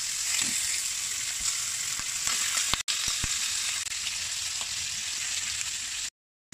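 Pork belly sizzles steadily in a little oil in a pan, a loud, even frying hiss with scattered pops that cuts out briefly near the end.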